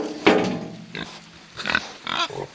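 Pigs grunt in a fenced paddock with barbed wire along the bottom, a few short close grunts and snorts spaced out over quiet background.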